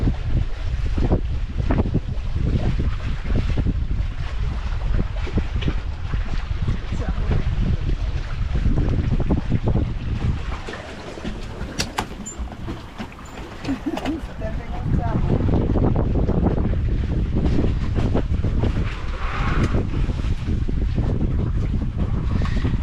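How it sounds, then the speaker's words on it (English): Wind of about 8 knots rushes past a sailing catamaran, a loud continuous buffeting roar with a brief lull midway, while someone talks intermittently beneath it. "Seven and a half, 8 knots of wind."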